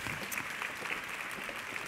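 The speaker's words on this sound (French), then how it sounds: "Merci beaucoup sous vos applaudissements." An audience claps at a women's forum event, a steady dense patter of many hands filling the hall, moderately loud and continuous with no voices on top.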